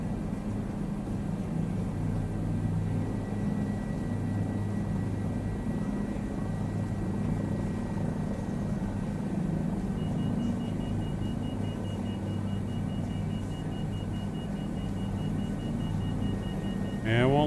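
Aircraft engine drone in Microsoft Flight Simulator 2024 after takeoff, a steady low rumble holding throughout at moderate level, with a brief higher whine entering near the end.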